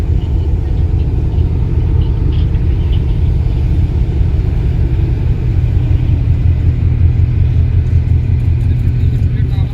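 The twin-engine Ghogha–Hajira ro-ro ferry, with two chimneys, gives off a steady, heavy low rumble that fills the whole stretch without a break, and a voice is heard faintly over the engine drone.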